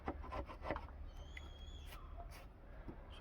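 Old varnish being rubbed and sanded off a wooden table, faint, uneven scraping strokes close up against a quiet background, with a soft high whine partway through.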